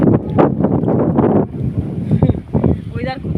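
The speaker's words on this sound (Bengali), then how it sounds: "খুব হাওয়া প্রচণ্ড হাওয়া বেরোচ্ছে হাওয়া বইছে চারদিকে" Strong wind blows across open water by the sea, a loud, steady rushing roar with gusting buffets against the microphone throughout.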